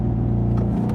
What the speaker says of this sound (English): There was a little bit of wheel spin.